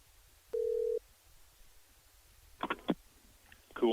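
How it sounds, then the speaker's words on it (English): A telephone line being hooked up gives a short steady dial-type tone lasting about half a second, then a few brief clicks and faint voice-like bursts, all fairly quiet over low background hum. "that was the phone line hookup"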